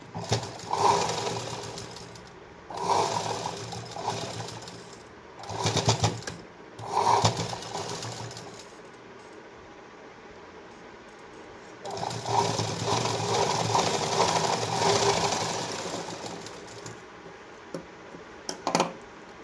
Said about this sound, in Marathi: आपल्याला एकदम खाचेत शिलाई मारायची